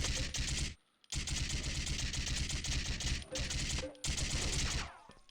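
Rapid bursts of Uzi submachine gun fire in a video game rattle loudly in long, dense strings, broken by a few brief pauses.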